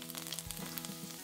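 Chopped garlic sizzles in hot oil with popping mustard seeds, a steady close crackling hiss with small pops throughout and no speech.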